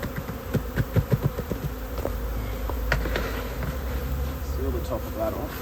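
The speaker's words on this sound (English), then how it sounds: "And there are some bees heading in there." A wild swarm of bees flies into a hive, a loud close buzzing drone with individual bees passing near, along with some light knocks and handling noise.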